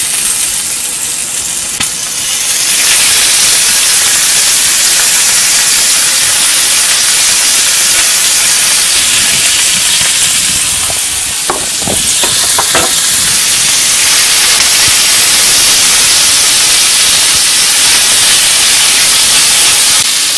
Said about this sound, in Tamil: ஆயில் ஹீட் ஆனதுக்கு அப்புறம் நம்ம கழுவி வச்சிருந்த இந்த பீக்கங்காய் தோலை ஆட் பண்ணிக்கலாம்.